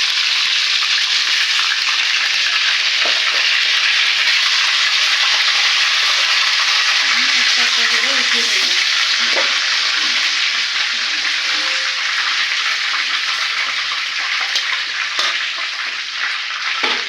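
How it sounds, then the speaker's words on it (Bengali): Chicken pieces fry in a pan, with a steady, loud sizzle lasting throughout and occasional scraping and clinking as they are stirred. "আমি সবগুলো মুরগি ভেজে নিয়েছি।"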